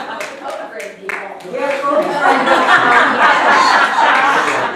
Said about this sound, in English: A round of applause for Becky and our judges.